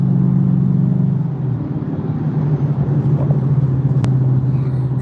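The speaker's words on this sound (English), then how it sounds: "Can y'all hear that engine?" A car engine idles with a steady low rumble close by, holding a deep continuous drone for about five seconds with a slight swell partway through and a brief faint click near the end.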